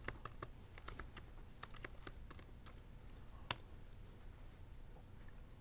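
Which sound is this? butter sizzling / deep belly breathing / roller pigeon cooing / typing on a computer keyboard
typing on a computer keyboard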